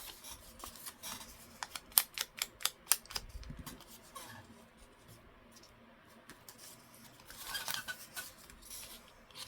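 Scissors snip through paper for a vintage journal topper, a quick run of crisp, close cuts in the first few seconds, then quieter rustling and handling of the paper.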